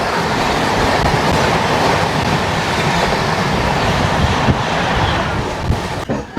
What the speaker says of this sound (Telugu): మన ఎదురుగా చూసుకుంటే హౌరా నుండి తిరుచినాపల్లి వెళ్ళే సూపర్ ఫాస్ట్ ట్రైన్ ఇది.